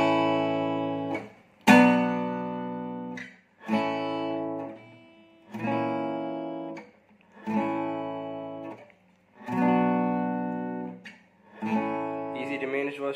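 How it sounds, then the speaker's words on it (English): Acoustic guitar chord progression for a pop song, a single downstroke per chord, each one ringing out before a short gap, in a steady sequence of about seven strums. "we're just gonna go for one down stroke on each chord for the whole song"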